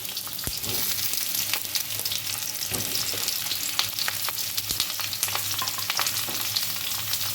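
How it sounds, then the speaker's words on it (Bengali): Potatoes and papaya sizzle and crackle loudly in a pan of hot oil, a steady dense frying hiss with scattered pops and occasional stirring scrapes, close and without any voices. "আলু আর পেঁপে আমি একসঙ্গে দিয়ে দেবো।"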